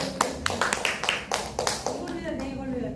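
A small audience claps in a loose burst of sharp, close hand claps lasting a few seconds, the slaps uneven and overlapping with some room noise.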